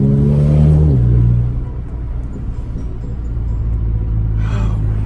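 An Audi A3 with a 2.5-inch straight pipe exhaust gives a deep, loud rumbling rev that drops back into a steady throaty idle, close to the car.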